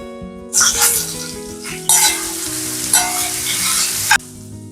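Sliced onions hitting hot oil with crushed ginger and garlic, giving loud sudden bursts of close sizzling that swell and fade across several stirs, with a faint hum underneath and no talking.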